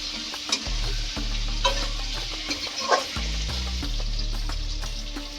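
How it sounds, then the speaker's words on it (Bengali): Potato pieces fry in hot oil with a bright, continuous sizzle, punctuated by occasional spatula scrapes, while a low droning hum runs underneath. "এবার আমি আলুটাকে একটু লাল করে ভেজে নেব"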